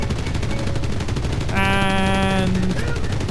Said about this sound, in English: This is an MG151, 20mm.